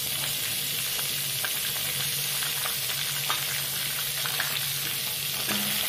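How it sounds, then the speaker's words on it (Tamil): Chopped onions fry in a pan with a steady, bright sizzle and crackle, joined by occasional scraping stirs and soft clinks, with no voices heard. "இதுல கட் பண்ணி வச்சிருக்க வெங்காயத்தை நம்ம இதுல சேர்த்துக்கலாம்"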